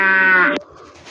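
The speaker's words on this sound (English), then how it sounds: "cow," A cow gives a single loud, close moo lasting about half a second, then cuts off into quiet.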